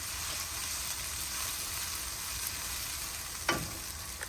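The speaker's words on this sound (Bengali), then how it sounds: "তো পেঁয়াজটা হোক, তার সাথে আমি একটু মশলা কষাবো।" Onions and spices sizzle steadily in a hot pan for chatpati masala, a continuous broadband frying hiss with a brief louder spatter or stir near the end; no one talks.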